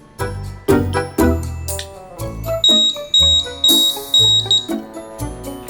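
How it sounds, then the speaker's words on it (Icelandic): A battery-powered smoke detector sounds in repeated loud electronic beeps and chimes in a steady rhythm, close by and with no talk. "Reykskynjari með batteri."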